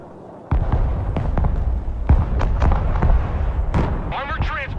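Mobile artillery in the Broken Arrow video game firing a rapid string of loud, punchy booms and blasts, with radio-style voices talking over the barrage.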